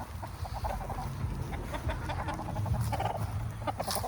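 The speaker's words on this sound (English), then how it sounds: "We got too many roosters." Roosters on a farm cluck and call repeatedly at close range, a busy overlapping chorus of fowl with scattered short crows and no talking.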